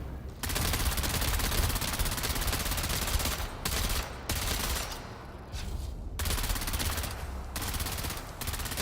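Sustained automatic gunfire in a Dune video game on Arrakis, dense and continuous bursts filling the clip with only brief gaps.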